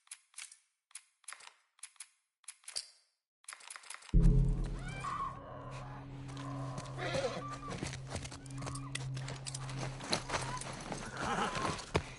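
Horse hooves clip-clop in The Last of Us Part 1, sounding as sparse, separated hoof steps at first. A loud, steady mechanical rumble and other game noise then take over and largely bury them.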